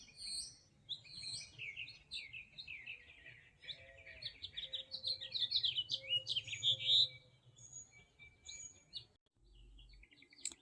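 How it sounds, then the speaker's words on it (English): Birds sing and chirp at an outdoor base camp, several overlapping tweets and warbling calls in a busy, fairly close chorus over a low background hum, with no talking. "Listen to all the birds."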